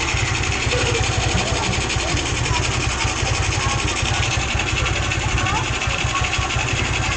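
A Rusi motorcycle engine idles loudly up close after a carburetor replacement, with a fast, even chugging rhythm that holds steady throughout.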